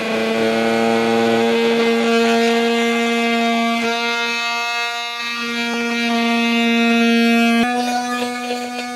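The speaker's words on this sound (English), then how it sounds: "I'll make this cut using a multi-tool" An oscillating multi-tool cuts through a plastic panel during a trailer hitch install on a 2023 Kia Telluride, with a steady, loud, buzzing drone running continuously from start to finish.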